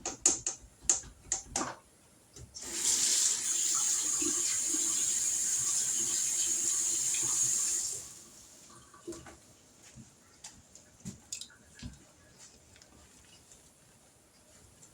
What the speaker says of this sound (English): Let me rinse off this spatula